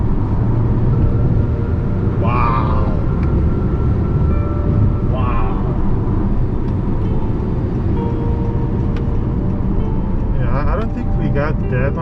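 A 10th-generation Honda Accord 2.0T with a Mishimoto intake and KTuner tune pulls hard in 6th gear, its steady loud engine drone and road noise filling the cabin while someone talks over it.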